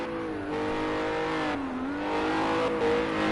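A Renault RS01 race car in the Project Cars 2 video game, engine screaming as it accelerates with rising pitch, dipping briefly between gear changes, loud and close throughout.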